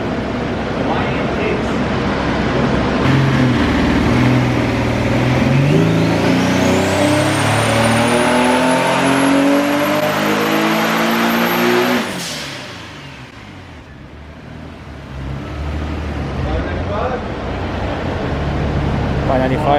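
Turbocharged Nissan 370Z on a dyno during a tune, engine loud and close as it revs steadily upward for about twelve seconds with a rising turbo whine, then drops off to idle and spools again.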